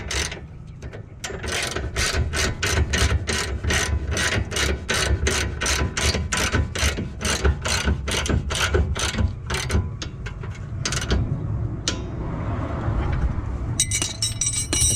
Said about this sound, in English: we're going to take our 17 millimeters and tighten the front bolt again, the one that goes to the spindle